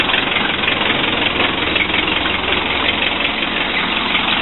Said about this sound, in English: 55 horsepower, 4-cylinder diesel.